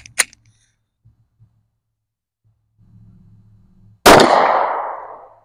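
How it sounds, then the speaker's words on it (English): A single .45 ACP round fired from a Springfield XD45 subcompact pistol into a pool table: after a small tap and low hum, one sudden loud blast with a ringing, decaying tail. "This is a Springfield XD45. Really nice subcompact 45 ACP. We're going to shoot this and see what we got."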